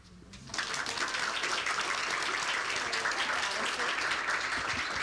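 An audience at a school board of education meeting applauds a group of fourth graders, starting abruptly and then holding steady as dense, even clapping from many hands.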